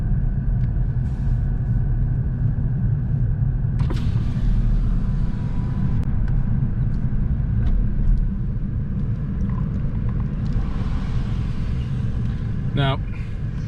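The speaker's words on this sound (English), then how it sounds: "So I'll just do a U-turn right here." A car drives slowly along a storm-damaged road after Hurricane Ian near Sanibel, Iona and Fort Myers and swings through a U-turn, its steady low engine rumble running throughout while a person talks over it.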